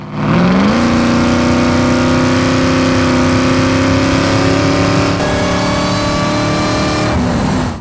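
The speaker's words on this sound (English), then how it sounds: "full aftermarket exhaust with Dynafab headers and then Magnaflow mufflers and tailpipes coming out in the factory location" A 1999 Ford Lightning pickup with a supercharged 5.4 V8, Dynafab headers and Magnaflow mufflers and tailpipes drives with a loud, droning exhaust. The engine pitch climbs smoothly and holds steady, close and continuous.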